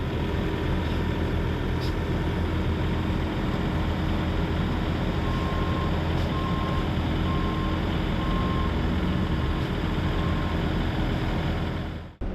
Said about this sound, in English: So we're dragging it sideways to get it under the shoulder so we could get a new set of tandems in it